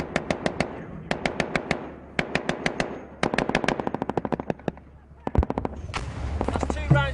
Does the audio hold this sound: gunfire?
yes